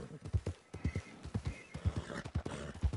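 A horse in Red Dead Redemption 2 trots with steady, close clip-clop hoofbeats, its snorts and whinnies mixed in over a rustling outdoor background, with no talk.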